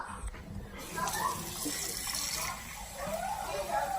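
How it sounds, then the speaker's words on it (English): Water pours steadily into a measuring cup nearby while baking cupcakes, a soft splashing trickle under a constant hum, while a person talks over it. "she's going to pour 1 cup of water"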